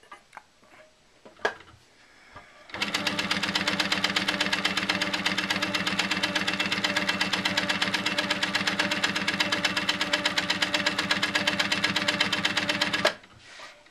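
A sewing machine runs steadily for about ten seconds while echo quilting a quilt, a fast, even mechanical chatter that starts after a few faint handling noises and stops abruptly, close and clear with no talk.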